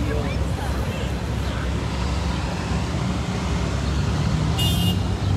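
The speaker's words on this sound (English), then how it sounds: "So many cars, is everybody moving?" Dense street traffic rolls along rows of cars in Washington, D.C., a continuous loud roadway rumble with a brief horn toot near the end and voices talking.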